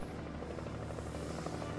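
Helicopter in the survival horror game Alan Wake Remastered, a steady close rotor drone with rhythmic chopping, loud and continuous over the short stretch, with no talk.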